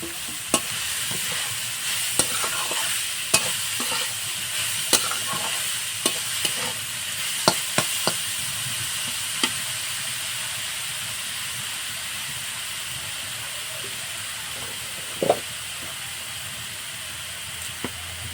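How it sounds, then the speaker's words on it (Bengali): Grated cauliflower tossed into spices frying in a pan for kachori filling, giving a steady loud sizzle and hiss with scattered clicks and scrapes of stirring throughout. "মশলাটা হালকা নেড়ে চেড়ে নিয়েছি এবার আমি গ্রেট করে নেওয়া ফুলকপিটা দিয়ে দেবো"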